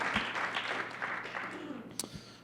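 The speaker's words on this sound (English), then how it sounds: "Round of applause for everyone for coming out." An audience applauds at a cannabis industry gathering in New York, a short burst of clapping from a seated crowd with a few louder individual claps, with a voice over it.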